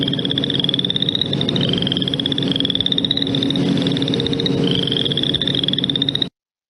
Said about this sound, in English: So that's a boreal chorus frog.